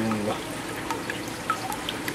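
Water trickles into an aquarium acclimation container holding fish, a close, soft stream with scattered small drips and splashes, steady and quiet with no talking.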